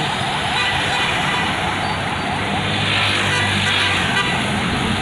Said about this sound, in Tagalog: Haba po guys ng traffic magmula doon yan sa Lipa